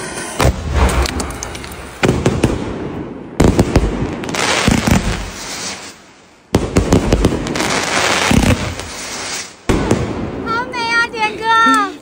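Fireworks bursting in the sky, with repeated loud booms and crackling volleys in bursts separated by short gaps, and whistling rockets near the end; voices can be heard between the blasts.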